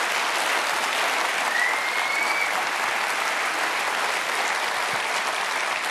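A large snooker crowd in Manchester warmly applauds a century break, a steady, even wash of clapping that holds at full volume throughout.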